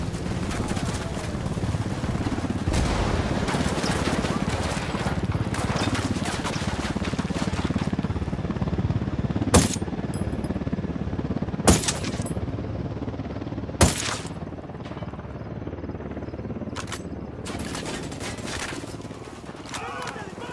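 Gunfire during a base infiltration in the video game Ghost Recon Wildlands: several sharp, loud isolated shots standing out over a steady rumbling background, with squad voices talking in between.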